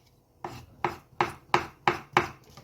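A knife dicing avocado for a tartare, six crisp evenly spaced chops on a cutting board, close and clear in a quiet kitchen.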